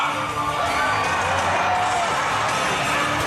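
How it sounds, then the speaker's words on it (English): A crowd cheering at a dog race in Toronto, a dense, continuous wash of whoops and shouts from many people, including children, at moderate distance. "The louder you cheer, the faster they go."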